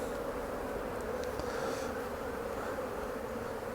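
Honey bees buzz around a hive frame during a honey super check, a dense, steady close-up drone filling the whole stretch with no voices.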